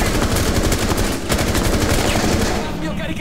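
Rapid enemy gunfire in Rainbow Six Siege, a dense, loud burst of automatic shots rattling steadily for a few seconds at close range.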